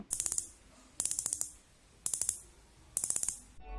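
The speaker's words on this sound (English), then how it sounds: "The bezel has a 60-click rotation, with each click sounding really sharp and loud, sharper and louder than the blue" The ceramic bezel of a Tudor Black Bay Ceramic watch ratchets round in four quick bursts, each a run of about six sharp, crisp clicks, heard close up in otherwise near silence.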